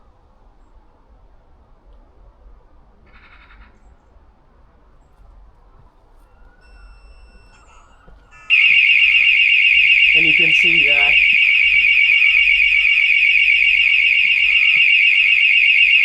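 A loud, continuous high-pitched electronic intruder alarm tone from a battery/solar-powered V-Ceptor detection pod starts suddenly partway through and keeps blaring; someone speaks quietly before it begins.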